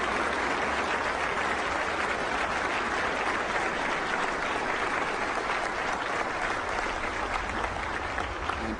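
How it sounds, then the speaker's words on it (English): A Catholic audience applauding George Bush, dense sustained clapping from a large crowd filling the room evenly throughout, no talk over it. "It's like having Satan himself come before this crowd of Catholics, and they applaud him"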